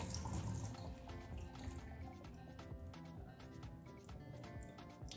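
Rinse water drains off washed rice in a kitchen, a steady close pour and splash into a sink with small drips throughout, faint and continuous with no voices.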